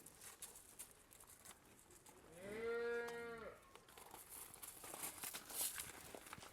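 A cow gives one long, drawn-out moo at moderate distance, rising and falling over a little more than a second against quiet outdoor background noise.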